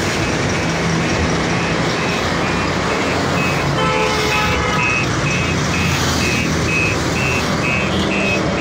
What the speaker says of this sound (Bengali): বিশাল এক গাড়ির সাইড দিয়ে যাচ্ছি ব্যাকলোডার করে।